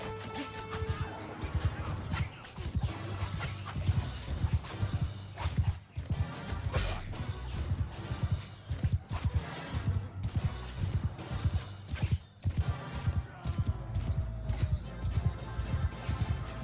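Horse hooves gallop in rapid, loud clip-clop beats in the medieval combat game Mount & Blade II: Bannerlord, with crashes and a horse whinny mixed into the rhythmic pounding.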